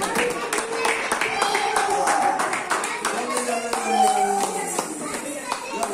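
A baby claps hands at a family birthday celebration for a nine-month-old, with irregular soft claps mixed into lively chatter, voices and party noise close by.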